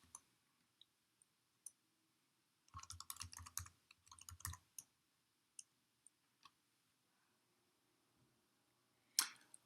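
Keys on a computer keyboard are tapped to enter a web address. Scattered single clicks give way to a quick flurry of typing in the middle and one last short burst near the end, in a quiet room.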